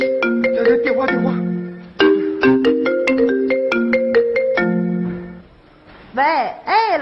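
A mobile phone ringtone plays a bright, repeating electronic melody of stacked tones, fairly loud and close, briefly pausing before a warbling alert figure at the end, during a comedy sketch about a parent being called to school.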